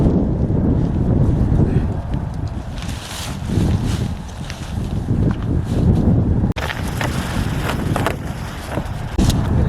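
Strong wind gusts roar and buffet the microphone out on open ice while a tent is taken down, steady and loud throughout with brief rustling and handling noises.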